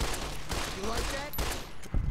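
Gunfire in Fallout: New Vegas, a short burst of shots with a loud crack near the end, heard over continuous game background noise.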